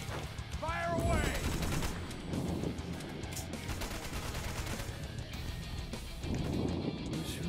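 Gunfire in the action game Wanted: Dead, a dense, continuous spray of shots and impacts over game music and effects, with voices talking now and then.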